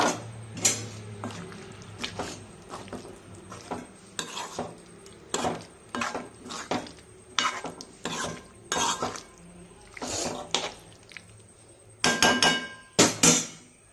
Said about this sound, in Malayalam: കുറച്ച് കായപ്പൊടി കൂടി ഇട്ട് ഇളക്കി യോജിപ്പിക്കാം